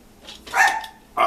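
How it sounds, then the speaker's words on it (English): Dogs bark nearby in short bursts, first a faint yip, then a louder bark with a second one cut off at the end, with no voices in between. "when they all start barking, you gotta investigate what's going on."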